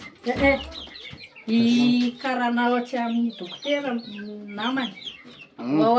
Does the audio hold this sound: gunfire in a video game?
no